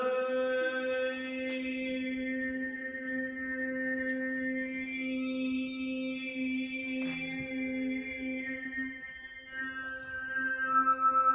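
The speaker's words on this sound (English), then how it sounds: "I'll move my tongue just a little bit further forward, and you'll hear the overtone start popping." Overtone singing: a steady low sung drone with a bright, whistling upper harmonic that shifts and pops out as the tongue moves forward, sustained alone and close.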